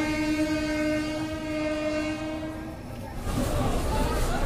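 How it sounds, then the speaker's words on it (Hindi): The 12166 Gorakhpur-Mumbai Ratnagiri Superfast Express pulls out of Deoria Sadar railway station, its long, steady horn sounding before giving way to rolling wheel clatter and rumble. "हमारी ट्रेन खुल चुकी है देवरिया सदर रेलवे स्टेशन से"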